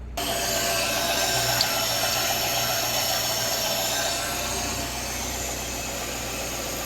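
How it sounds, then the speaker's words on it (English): A running Citroën CX GTi engine drones steadily with a broad, airy hiss layered over it, like air being drawn in at the intake, continuous and close. "Got a pretty interesting sucking noise over here. Is it just the intake?"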